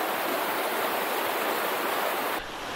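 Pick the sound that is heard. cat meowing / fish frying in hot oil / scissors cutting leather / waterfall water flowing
waterfall water flowing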